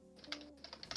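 Typing on a computer keyboard, a quick, uneven run of soft clicks and taps, fairly quiet and close, with no talk over it.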